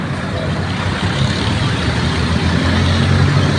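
Idling trucks queued at a supermarket delivery receiving area in Tanza, Cavite produce a steady, loud engine rumble with traffic-like noise that holds evenly throughout.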